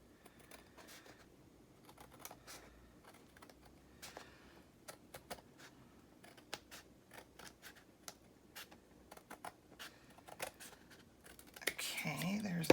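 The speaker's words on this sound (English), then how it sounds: "I'm gonna trim off the parts that I see that are kind of hanging over" Overhanging cover material is trimmed from the edges of a handmade journal, giving quiet, irregular snips and small crisp clicks spread over several seconds, ending in a louder rustle of handling.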